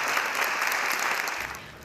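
A roomful of supporters of the Protect Rhode Island Families Act applaud inside the Rhode Island State House, a dense, close wash of clapping that carries steadily and begins to fade near the end.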